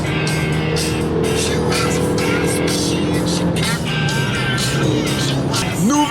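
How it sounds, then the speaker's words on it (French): Cars at a French car meet, engines idling and revving nearby with a tone rising and falling, a busy crowd murmuring underneath and a short squeal near the end. "rassemblement de voitures, les gars, j'ai jamais fait ça"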